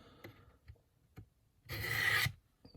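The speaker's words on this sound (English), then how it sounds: "Sharpening can often be a little bit of trial and error." Knife being sharpened on a Work Sharp Ken Onion benchtop sharpener, a single steady abrasive rasp lasting about half a second, close and fairly loud, preceded by a few soft taps and handling clicks.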